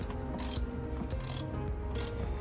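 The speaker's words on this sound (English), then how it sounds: "And then I will use a screwdriver, T45, to remove it." A T45 screwdriver works on the seat screws of a Tesla Model 3, giving a string of close, quiet ratcheting clicks and small metallic turning sounds with no talking.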